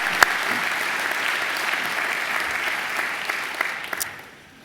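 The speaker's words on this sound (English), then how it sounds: "I think he deserves another great round of applause." Audience applause at a university graduation ceremony, a full hall clapping steadily with a few sharper claps standing out, then fading away at the end.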